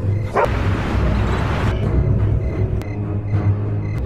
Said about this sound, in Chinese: 眼看狗子对着他们一直叫